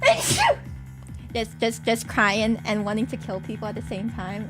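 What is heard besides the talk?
woman sneezing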